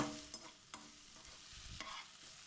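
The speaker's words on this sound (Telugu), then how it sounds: "కొద్దిగా వేగాయమ్మా ఉల్లిపాయలు పచ్చిమిరపకాయలు" Onions and green chillies fry lightly in a pan for a mixed vegetable curry. A faint, close sizzle is broken by a few sharp scraping stirs of a spatula.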